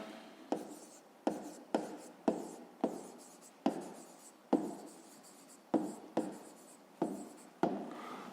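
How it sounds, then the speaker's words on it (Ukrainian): A pen writes an answer on paper in a run of about a dozen short, scratchy strokes, each starting with a small tap, close and fairly quiet with no talk. "Записуємо відповідь."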